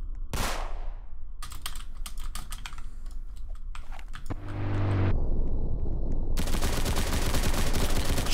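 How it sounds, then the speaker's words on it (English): Gunfire in the Roblox video game, rapid clicking shots in short bursts followed by louder sustained noisy bursts, alternating with brief quiet gaps. "Oh my gosh, I'm getting absolutely shot at."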